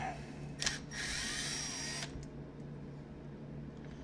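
A power driver backs screws out of a Milwaukee palm sander, a close, steady whine lasting about a second and a half, with small clicks at either end over a low background hum.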